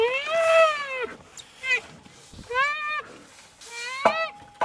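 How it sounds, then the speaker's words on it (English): An orphaned baby rhino at a wildlife rescue cries for its milk in several high, squeaky, mewing calls, each lasting about a second, with short pauses between them. "give it to this hungry baby out there that you will shortly hear crying for his milk"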